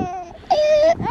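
A baby wails inconsolably in one sustained, loud cry, following quieter fussy sounds and a short breath; no talk is heard.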